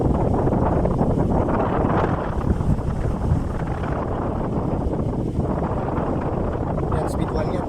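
A homemade stand fan running at speed 1 makes a strong, steady rush of airflow, close to the microphone, with broadband buffeting that stays constant throughout.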